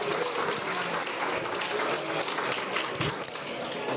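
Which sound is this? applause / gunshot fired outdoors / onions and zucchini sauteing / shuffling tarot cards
applause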